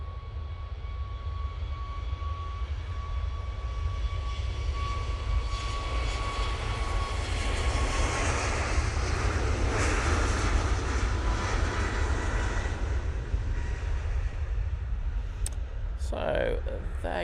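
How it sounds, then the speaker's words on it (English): A TUI 737 MAX 8 taking off from Manchester Airport for Catania delivers a sustained jet roar that swells toward the middle and stays strong, with a voice talking over it. "there goes the TUI 737 MAX 8 going off to Catania"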